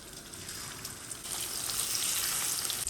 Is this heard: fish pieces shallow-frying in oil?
yes